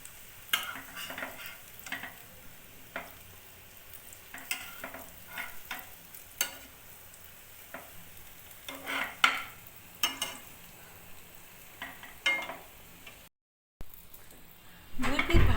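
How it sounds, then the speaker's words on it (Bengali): A bread omelette fries in a pan, soft sizzling under repeated stirring and scraping taps of a utensil against the pan, with occasional speech in the background. "এবার অপর পিঠটা ভেজে নেব।"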